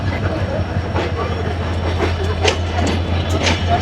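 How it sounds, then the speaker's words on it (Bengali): Sagardari Express passenger train at Jessore station, a close, continuous rail rumble with a low steady engine hum, clicking wheels and crowd noise layered over it for a few seconds. "এই হচ্ছে সাগরদাড়ি এক্সপ্রেস, আর এটির গন্তব্য হচ্ছে সরাসরি খুলনা, আর এটি ছেড়ে আসছে রাজশাহী থেকে।"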